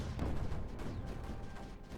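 Bertha artillery cannon fire in the strategy video game Creeper World 4, a short burst of booming, rumbling shots heard alone without talk.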